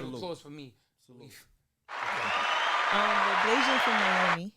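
Applause breaks out after a man's spoken request, a dense wash of clapping lasting a couple of seconds with a voice talking over it near the end.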